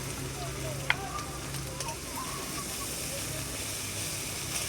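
Tomatoes drop into a pan of frying onion paste for a coconut prawn dish and set off a steady, dense sizzle that holds evenly from start to finish, close and moderately loud, with one brief sharp tap early on.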